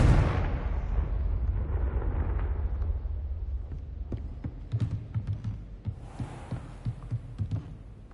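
A Confringo fire spell bursts in Hogwarts Legacy with a loud, close blast that rumbles and slowly fades, followed by a scatter of sharp, smaller pops and impacts.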